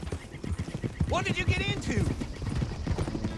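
Horse hooves clip-clop steadily in Red Dead Redemption 2, a rhythmic trotting beat running under a man's speech, with a short whinny midway.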